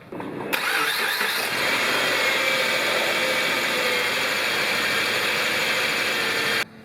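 A 2011 Subaru Forester 2.5-liter four-cylinder engine runs at a steady idle after a start, a loud even hum with a higher whine, then cuts off abruptly near the end.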